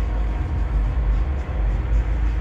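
A train rumbles past in a steady low roar, loud and continuous with no voices, heard from a parking lot outside a cidercade.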